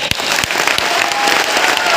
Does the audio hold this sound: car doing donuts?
no